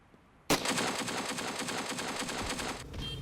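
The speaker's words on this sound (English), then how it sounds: "The second gun is the yet unreleased DP-28 by Jingsheng Yang." A DP-28 machine gun mod in the video game Ravenfield fires one loud, steady automatic burst of about two and a half seconds with an even, rapid rhythm, then cuts off sharply, with no talking.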